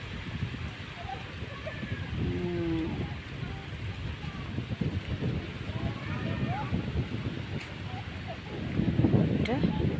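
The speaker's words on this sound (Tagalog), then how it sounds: "Ang hangin." Steady wind gusting at a beach resort, a constant rushing roar across the mic with a louder buffet near the end, and birds or voices faintly heard under it.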